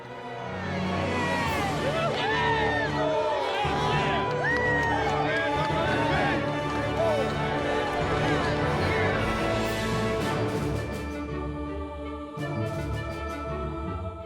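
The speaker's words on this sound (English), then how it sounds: "passing through the cheering throngs of the faithful as they make their way towards the home dugout" A cheering crowd lines the route of an opening day parade at the Philadelphia Phillies ballpark, a dense roar of shouts and whoops that fills the whole stretch, loud and continuous.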